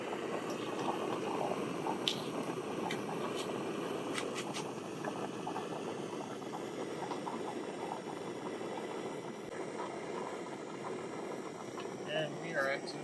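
A steady roar of a JetBoil camping stove burner under a bubbling, hissing pot of boiling water continues throughout, with occasional faint clicks and a voice speaking briefly.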